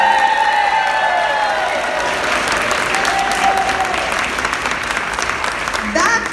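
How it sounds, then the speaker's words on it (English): A crowd gives sustained loud applause with some cheering at a coaster reveal event at Six Flags Over Texas, the clapping steady and dense, with a voice faintly heard under it. "Another round of applause for Jeffrey Sieber."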